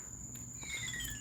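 Crickets chirp outdoors in a steady, continuous high-pitched trill that holds at an even level for the whole moment, with no voices over it.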